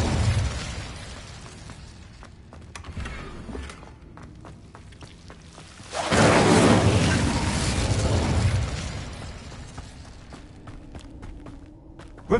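Fire spell cast in Hogwarts Legacy on PS5, a sudden loud whooshing burst of flame that roars for about three seconds over game ambience with scattered footsteps and thuds, then fades.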